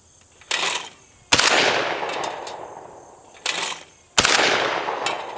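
A Rheinmetall Nr.4 semi-automatic shotgun fires four loud shots in two pairs, each sharp blast followed by a long rolling echo that fades out.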